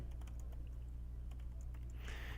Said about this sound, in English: So I'm going to go ahead right now and just type in a for loop.